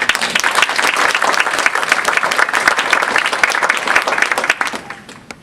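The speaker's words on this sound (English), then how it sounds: "Let's give him a big round of applause." A crowd at a Detroit speakers series breaks into loud, vigorous applause, sharp individual claps packed densely together for several seconds before tapering off quickly at the end.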